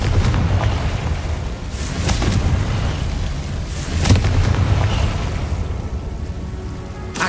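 Confringo fire spell blasts in Hogwarts Legacy, with repeated booming bursts around a rumbling, rain-like crackle, loud and close, several impacts a couple of seconds apart.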